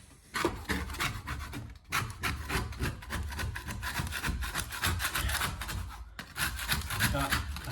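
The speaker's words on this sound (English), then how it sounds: "Let's see if I can just scrape the dry stuff." A scraper rasps steadily against dry wallpaper on an apartment wall, a close, continuous rubbing and scratching with brief pauses, while a person talks over it.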